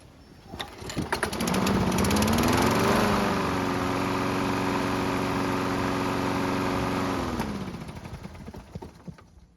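A lawn mower engine, hot after running, restarts and runs steadily at close range with a loud, even drone that rises briefly as it catches, then holds before winding down near the end.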